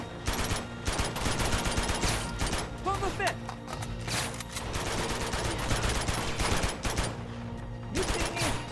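Rapid gunfire bursts from the video game Uncharted 2, dense repeated shots layered with game action and music, loud and nearly continuous throughout, with someone talking over the shooting.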